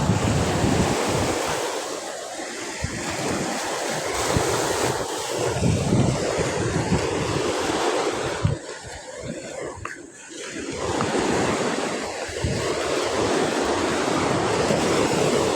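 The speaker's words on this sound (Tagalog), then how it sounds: "gala tayo sa dagat. Kalmada ang dagat ngayon ah." Steady wash of calm sea waves off Oriental Mindoro with broadband surf noise and some wind rumbling across the microphone, continuous with a brief dip midway.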